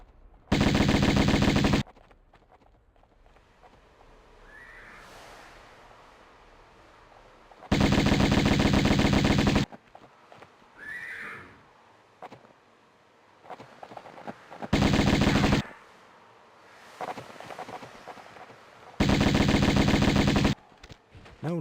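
Bursts of automatic gunfire in the Tomb Raider video game, four loud sustained volleys of roughly two seconds each, separated by quieter stretches of in-game ambience.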